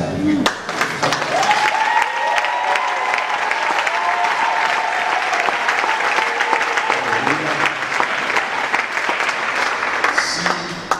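A church congregation applauding to acclaim the Lord, sustained clapping from a crowd filling the room for about ten seconds, with voices calling out and singing over it.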